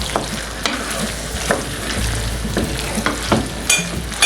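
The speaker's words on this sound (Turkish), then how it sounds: "Makarnamızı böyle karıştırdıktan sonra birbirini domatesi, biberleri birbirine yediriyoruz iyice." Pasta with tomatoes and peppers is stirred in a frying pan, a steady soft sizzle broken by repeated scraping strokes of the spoon, up close with no talk.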